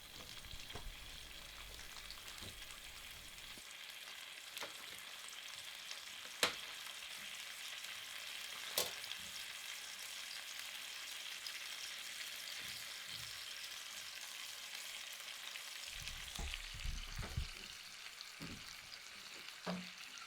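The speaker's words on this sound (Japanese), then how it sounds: "このように鍋底にうまみシュックルがついてキューブも焼けてコートドボー自体もきれいに焼けてきました。" Veal chop searing in a pan alongside browning cubes, with fond forming on the pan bottom: a steady, moderately faint sizzle and crackle runs throughout, with occasional sharper pops and a few stirring clatters near the end.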